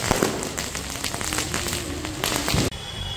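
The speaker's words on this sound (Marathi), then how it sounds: "जिकडे तिकडे फटाके आहेत बघू शकता" Firecrackers burst during Diwali Lakshmi Puja in a busy Chiplun market, a dense rolling crackle of pops and bangs throughout, with a sharp louder burst near the end before the noise drops.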